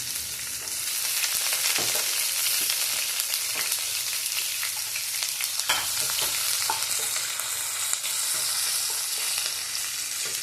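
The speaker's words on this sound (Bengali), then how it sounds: "রসুনটা দিয়ে যাতে একটু নাড়লে, একটু হালকা ব্রাউন কালার আসলেই আদা আর লঙ্কা কুচি দিয়ে দেবো।" Garlic sizzles steadily in a hot pan while being stirred, with scraping clicks of the spoon over continuous close frying crackle.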